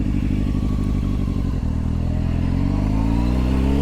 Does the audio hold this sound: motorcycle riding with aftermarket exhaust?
yes